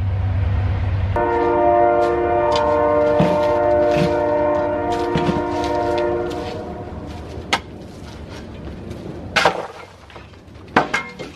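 A loud train horn holds a long chord for several seconds over rumbling cars, then stops, leaving clanks and scattered knocks as the train rolls on.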